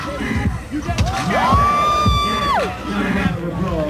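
A crowd at a streetball dunk contest, heard as loud, close crowd noise with cheering and shouts over a continuous roar, and a whistle-like sustained tone rising through the middle.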